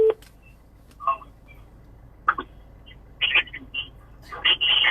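Scattered electronic telephone dialing tones, a few short beeps spread out then a quicker cluster at the end, over a low background hum.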